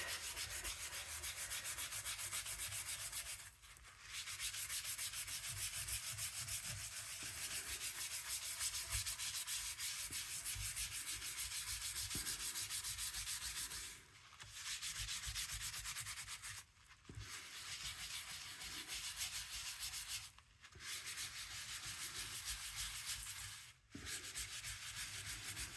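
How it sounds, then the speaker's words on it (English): Oil pastels rubbed together give a steady, close scratchy rubbing that runs in long strokes, broken by a few short pauses, with no talking. "Now if we come and rub them together"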